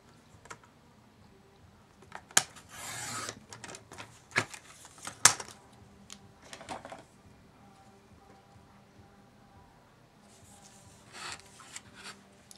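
Paper being cut and punched with Fiskars border punches, a series of sharp snapping clicks and crunches spread irregularly, with brief rustling and scraping between them, close and fairly quiet.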